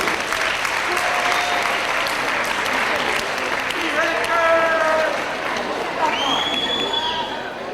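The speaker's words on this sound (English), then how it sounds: "let's give a big round of applause to Willie Rodriguez, a national hero." Applause fills a high school gathering in Hoboken, steady and dense throughout, with cheering and voices from the crowd mixed in.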